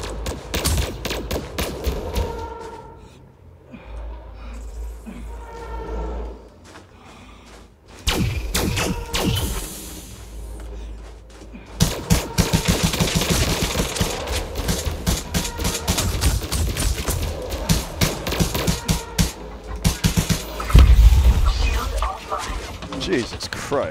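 Loud, fast volleys of gunfire from an on-foot firefight in Elite Dangerous Odyssey, with rapid bursts and thuds after a quieter stretch, under a voice talking.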